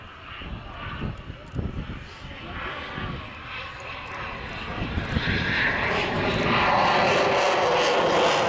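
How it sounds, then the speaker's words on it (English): A Eurofighter Typhoon's Eurojet EJ200 engines roar and build to a loud, broad rush as the afterburners light, with rumbling bursts and talking early on. "the afterburners kicking in of the Eurojet EJ200 engines"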